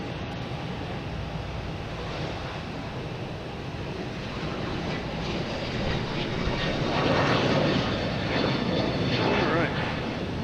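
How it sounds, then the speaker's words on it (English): A JetBlue Airbus A321 jet takes off at Boston Logan Airport, a broad steady engine roar with a wind-like rush that swells louder over the last few seconds, heard from a distance outdoors. "next taking off is a JetBlue A321 heading to Paris"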